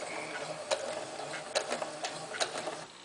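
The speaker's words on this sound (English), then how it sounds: "I am stitching just a little bit and then backing it up." A sewing machine stitches a short run and backs up, giving a steady mechanical hum broken by several sharp ticking clacks at close range, no voices.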